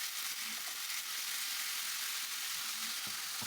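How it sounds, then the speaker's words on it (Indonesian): Chicken sears in a pan alongside chili and garlic, a dense, continuous sizzle with crackling hiss and a few faint clinks from below, close up and with no talking. "Masukkan ayamnya. Kita panggang di sisi cabai dan bawang putih."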